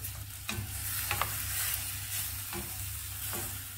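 A cooking mixture with homemade green olives being stirred in a pan, soft scraping over a steady, quiet sizzle, with a few light knocks of the utensil.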